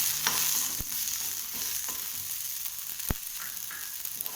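Tamarind sautéing and being stirred in a pan for garlic chutney, a steady soft sizzle with occasional sharp scrapes and taps of a spoon against the pan, close and fairly quiet, no talking.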